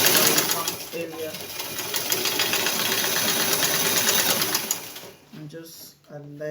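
A sewing machine runs a straight seam on a skirt in a steady, continuous close whir for several seconds, then stops, with a voice talking through and after it.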